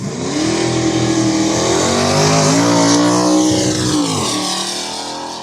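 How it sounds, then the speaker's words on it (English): A loud V8 engine roars close by, its pitch climbing and falling as it revs hard, with no voices. "Can't beat nice loud V8."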